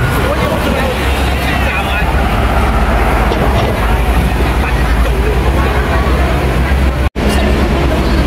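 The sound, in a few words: tram passing on Queensway road, Hong Kong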